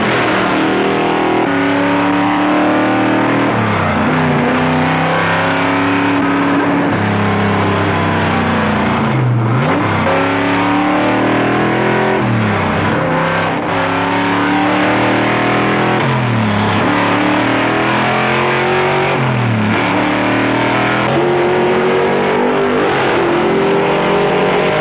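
A Camaro engine revs hard and repeatedly, loud pitch sweeps rising and falling every couple of seconds for a long stretch, with no voices.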